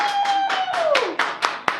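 A few sharp claps ring out near the end, following a sustained tonal whistle that slides downward, with crowd-like cheering texture underneath.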